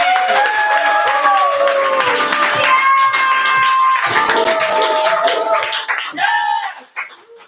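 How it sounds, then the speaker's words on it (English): Audience at an open mic and Yankee swap slam night clapping and cheering, dense and loud throughout with voices and whoops mixed in, then fading out near the end. "Clap it up for Teddy"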